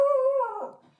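A single drawn-out dog vocalization, close and fairly loud, holding a steady tone for about half a second before breaking up and fading into a ragged, whimpering tail, more howl than sharp bark, with no talking.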